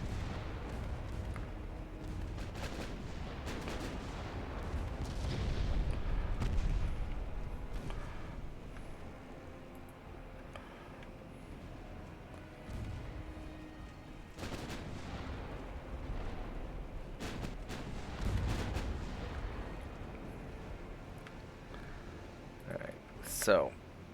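Secondary and main naval guns on warships fire in Ultimate Admiral Dreadnoughts, heavy booming blasts rolling through a continuous low battle rumble, with a sharper report near the end, all under a speaking voice.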